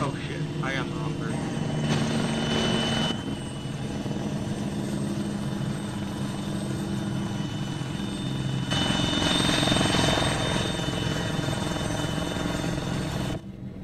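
A military helicopter in the game Arma 3 drones steadily with a throbbing rotor and engine hum, loud and continuous under players chatting over voice comms.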